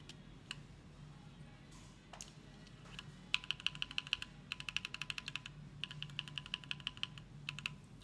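Mechanical keyboard fitted with linear switches, from a Kyubi keyboard build, typed on in quick bursts of crisp clicky keystrokes that start a few seconds in and continue in rhythmic runs over a low background hum.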